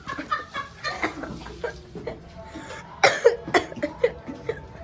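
Several sharp coughs from the irritating fumes of spicy cooking come in short bursts, close and fairly loud against quiet kitchen background.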